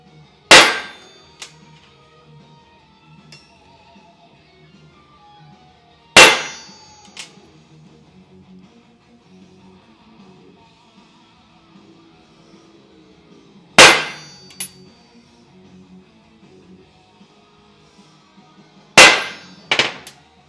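Four sharp, loud metallic clangs of a hammer striking a stamp to mark a 1932 Ford heavy axle, spaced several seconds apart with quiet gaps and ringing decay between.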